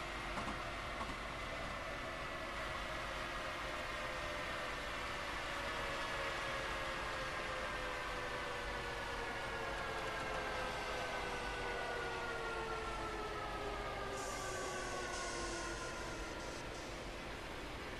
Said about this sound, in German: Oh, wir kriegen den Zug zur Bremse.